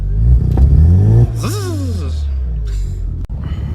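A turbocharged rotary engine in a 1987 Mazda RX7 revs hard on test: a loud, low droning roar that swells, then drops, with a rising and falling turbo whistle sweeping across the middle and a sharp click near the end.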